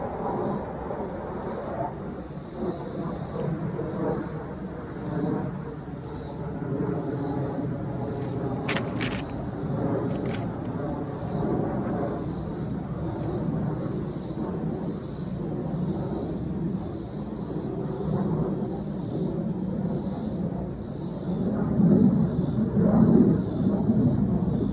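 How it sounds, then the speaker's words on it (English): An airplane passes over a woodland garden as a low, broad, steady drone at moderate distance, holding level and swelling slightly toward the end, with faint high hiss from the surroundings. "Oh, here goes a plane."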